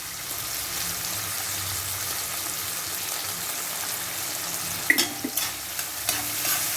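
Onion and tomato sautéing together in a pan, a continuous even sizzle close up, with a few stirring knocks and scrapes near the end and no talking.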